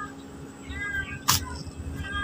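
A domestic cat, a mother cat, gives a soft meow or two faintly under steady room noise, with one brief sharp hissing burst partway through.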